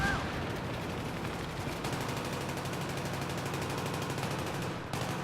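Continuous rapid gunfire from the Battlefield 3 beta on the Operation Metro map, dense automatic bursts layered with other shots, loud and steady throughout with no talk over it.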